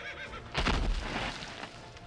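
A frightened horse neighs in an audio story sound effect, a single short burst of whinnying against a faint, noisy background.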